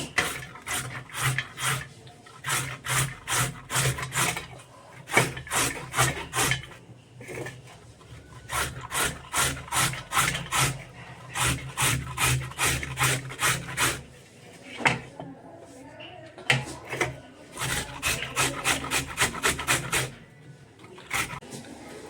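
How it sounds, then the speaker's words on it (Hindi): Carrots being grated by hand for gajar halwa, a rapid series of rasping scrapes in rhythmic bursts with brief pauses, close and fairly loud, no talking. "अब इनको मैं घिसूँगी गाजरों को।"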